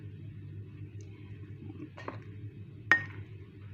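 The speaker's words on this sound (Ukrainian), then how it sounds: "Я це все так ложечкою попробую перемішати поки що." A spoon in a bowl of whole-grain flour dough gives two light, separate clinks against the bowl over a low steady hum, otherwise quiet.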